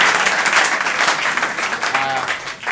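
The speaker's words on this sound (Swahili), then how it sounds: "Wapi makofi ya John Kibera?" An audience at an interview show breaks into dense, steady applause, with a voice faintly audible beneath the clapping.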